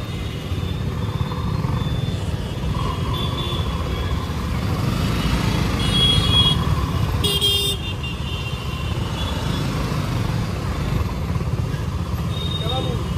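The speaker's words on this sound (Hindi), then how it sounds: "बहुत ज़्यादा ट्रैफिक था" Heavy road traffic in Gorakhpur, India, with cars, trucks and motorbikes rumbling continuously and car horns tooting now and then, loud and close throughout.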